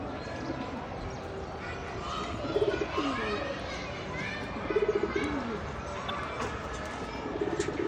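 Penguin pigeons cooing close by in soft, repeated throaty bursts, heard over a background of room noise while a person talks.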